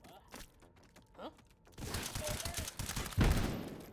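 Gunfire in the VR shooter game H3VR, with sparse sharp shots at first and then a dense burst of rapid fire ending in one heavy, loud blast, with mechanical handling clicks between.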